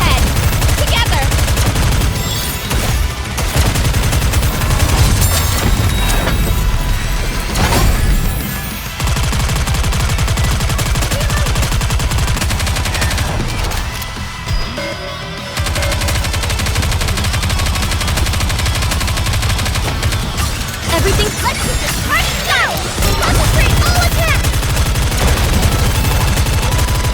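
A dense, continuous volley of gunfire rages through a video game battle, loud and unbroken for long stretches with a couple of short lulls, voices faintly mixed in.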